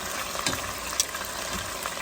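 Steady, dense sizzle of garlic chicken drumsticks frying in hot oil, a continuous crackling hiss with a few small pops, fairly close and without talk.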